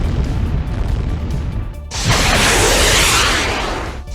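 An army brigade's field exercise on a cold high-altitude plateau, firing artillery and rockets: steady rumbling noise gives way to a loud, sustained explosive roar that holds for about two seconds before tailing off.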